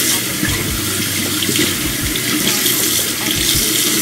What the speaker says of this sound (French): Donc je mets un peu d'eau tiède dessus, pas chaude, et surtout notamment autour du cou